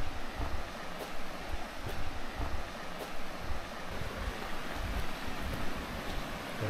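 A stream flowing near a forested mountain campsite at Crabtree Meadows on the John Muir Trail, a steady broadband rush of water with some wind buffeting, continuous and fairly even throughout.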